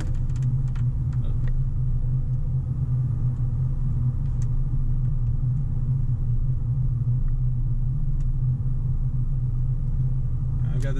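A 2002 Jaguar S-Type with a 3.0 V6, driving slowly around a circle drive: a steady, deep engine rumble and road hum heard from inside the car, even in level, with a few faint clicks on top.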